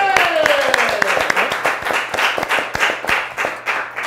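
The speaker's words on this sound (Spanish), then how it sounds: "¡Un aplauso!" Studio audience applauding on a Spanish-language TV show, with dense clapping that stays loud and steady across the whole stretch while a voice carries on over it.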